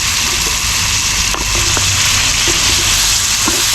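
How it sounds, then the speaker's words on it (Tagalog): Garlic and onion sauté in a hot pan with a loud, steady sizzling hiss and a few faint stirring clicks. No one speaks. "gisa na natin yung bawang"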